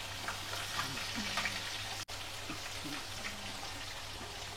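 Fish frying in oil in a pan, a quiet continuous sizzle and crackle with faint low hum beneath and a single sharp click midway; no one speaks.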